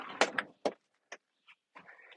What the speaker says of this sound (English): Let's open the door and look inside.